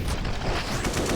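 Gunfire from the video game Counter-Strike, played on the Vertigo map during a pro league match, comes as a dense, loud burst of rapid shots lasting about a second.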